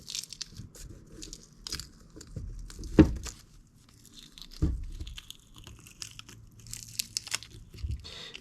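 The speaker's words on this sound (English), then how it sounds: "We'll just gently begin to peel this up." Latex and gauze mold is peeled gently off a rock, producing close, crackly tearing and crinkling sounds in uneven bursts with a couple of louder pops.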